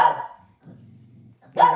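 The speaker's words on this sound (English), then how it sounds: "sorry about my dog" A dog gives two sharp barks with a low growl between them, close and fairly loud.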